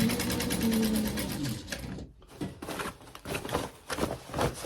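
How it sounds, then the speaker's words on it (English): A sewing machine stitching across fabric gift bag handles, a loud, steady motor whir that breaks off briefly, then returns in short uneven bursts of stitching. "When you sew over them, you don't want any like looping or gapping."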